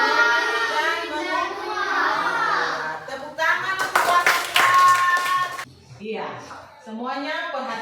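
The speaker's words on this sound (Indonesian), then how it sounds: "Tepuk tangan untuk kelas 4" A burst of applause from a fourth-grade class of children lasts a couple of seconds, with a teacher talking before and after it.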